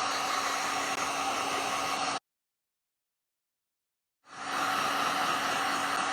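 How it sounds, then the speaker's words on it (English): A heat gun blows steadily while drying clay on an aluminum can, cutting off for about two seconds and then starting up again, loud and close with no talking. "if you need to speed it up, you can use the heat gun."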